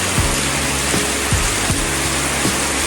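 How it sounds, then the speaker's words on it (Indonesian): Heavy rain falls steadily on a roadside shelter, a dense, loud, continuous hiss with faint low thuds recurring underneath. "Neduh aja dulu di sini. Nanti tunggu bereda kita gas lagi. Neduh dulu. Hujan teman-teman."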